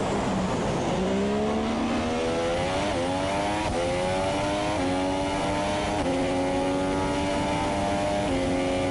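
F1 car engines from a racing video game at the USA Grand Prix drone continuously and loudly, their pitch rising through the gears again and again with shifts every second or so.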